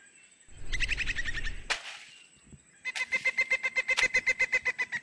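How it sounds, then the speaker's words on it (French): A chicken held before release clucks and squawks close by in an outdoor village scene, first a ruffled flurry, then a rapid run of loud, evenly spaced clucks. "Prends cet oiseau, lâche-le dans les airs, très loin."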